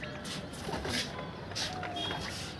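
Soft pigeon coos drift in low and muffled under a noisy background, with faint fluttering and rustling nearby.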